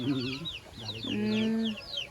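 Chickens cluck close by, a busy overlapping chatter of short calls with a longer drawn-out note in the middle.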